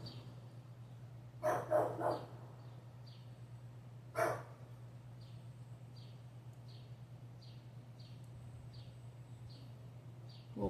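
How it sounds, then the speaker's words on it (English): A dog barks indoors, a quick cluster of three barks followed a few seconds later by a single bark, moderately loud over a steady low hum and faint repeated chirps. "Who in there barking up a storm?"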